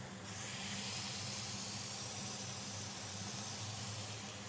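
A burger patty sizzles steadily on a hot stainless steel surface after being smashed flat, giving a continuous close hiss that holds without a break.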